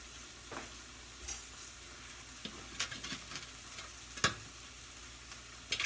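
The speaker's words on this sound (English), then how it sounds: "we're going to turn the squash over" Acorn squash turned over in a sizzling frying pan, a quiet steady sizzle broken by a few sharp clacks and scrapes as the pieces are flipped.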